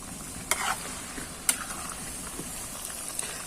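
Food fries in plenty of oil in a pan, giving a steady close sizzle and hiss with a few sharp pops and clicks scattered through it.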